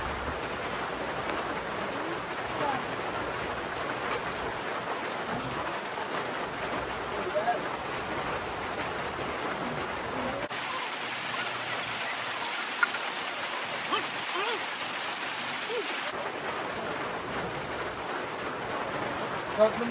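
Steady rain patters over a broad hiss on a farm for the whole stretch, close and even, with occasional louder drops and no voices.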